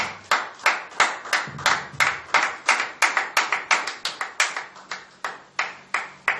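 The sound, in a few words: congregation clapping and acclaiming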